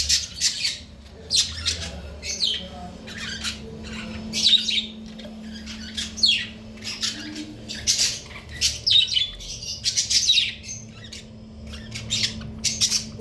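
Pet Java sparrows kept indoors, giving repeated sharp chirps and squawky calls in irregular bursts, loud and close, over a low steady hum.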